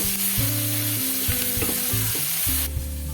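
Capsicum being sautéed in a pan for capsicum usili, a loud close sizzle running continuously with steady tonal hum layered over it and no voices.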